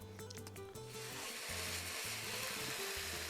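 Marinated chicken sizzles steadily in a skillet with no added oil, a loud continuous hiss that swells after a brief placing sound, with a repeating kitchen tone humming underneath.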